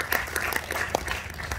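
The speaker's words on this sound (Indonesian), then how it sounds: "Tepuk tangan untuk panitia" A short burst of applause from an audience honoring the organizing committee at an event at a governor's residence in Bali, a dense patter of many hands clapping at close range.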